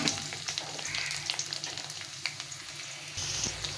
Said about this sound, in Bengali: আলুটাকে ভেজে নিতে হবে।